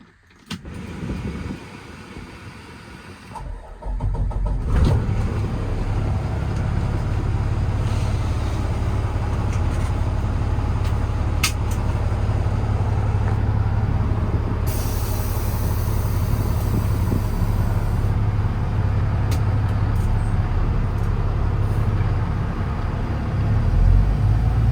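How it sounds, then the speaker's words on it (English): A 2009 Kenworth T370 truck fitted with a 10k crane, product tanks and a PTO compressor drives along, its steady low engine drone and road rumble continuous and loud after a brief quieter start, with no talking. "I'm gonna hop in the truck and take it for a spin"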